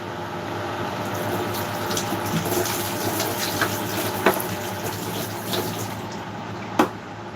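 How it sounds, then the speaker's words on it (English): Tap water runs steadily into a sink to rinse something off, a continuous close rushing splash with a couple of brief louder knocks near the end. "We're just going to rinse off."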